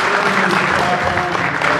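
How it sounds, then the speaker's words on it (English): Audience applause at an evening Coaches vs Cancer game as a cancer survivor is introduced to speak; steady, dense clapping fills the whole short stretch at close, even loudness. "Have a round of applause for Mrs. Gerfen."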